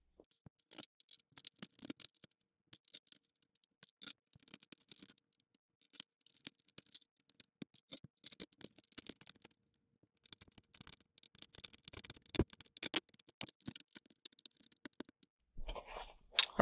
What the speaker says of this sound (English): Let's put all those long screws that we had back in.